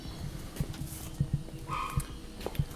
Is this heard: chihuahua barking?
yes